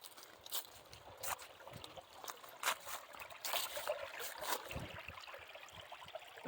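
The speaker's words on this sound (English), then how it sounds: "A neat looking creek." Creek water trickles and flows over rocks at a woodland trail crossing, a soft, steady babble with small splashy bursts, fairly close and alone with no talking.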